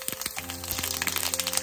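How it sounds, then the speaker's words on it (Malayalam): Mustard seeds, following fenugreek, pop and splutter in hot oil for a Kerala moru curry, giving dense rapid crackling with sharp sizzling bursts, close and loud, with no talk over it. "നമുക്ക് കടുക് ഒന്ന് പൊട്ടി വരട്ടെ."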